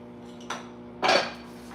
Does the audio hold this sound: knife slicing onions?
yes